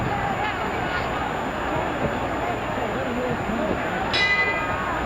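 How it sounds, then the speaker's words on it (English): Boxing ring bell from the Rocky Marciano vs Archie Moore fight, a brief metallic ding near the end cutting through loud, continuous crowd roar and an announcer's commentary. "There's the bell."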